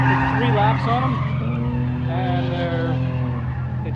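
Race car tires squealing hard on track with the engine droning underneath, a continuous loud screech with wavering pitch that holds throughout, while a voice talks over it.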